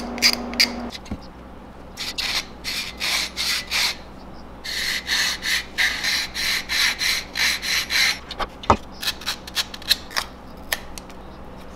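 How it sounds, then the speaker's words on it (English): Repeated short scraping strokes as an edge tool shaves burrs off the edge of a Lexan polycarbonate sheet, close and fairly loud, coming in rhythmic bursts with brief pauses and a few sharp clicks. "there is always burrs on the edge of Lexan polycarbonate that you have to scrape at"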